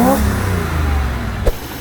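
Stock 305 V8 in a 1983 Monte Carlo revs with its air cleaner lid flipped, a loud, close engine roar that swells briefly, then settles, with one sharp knock near the end.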